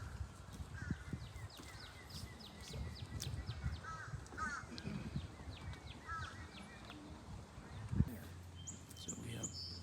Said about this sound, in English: and different kinds of chirping.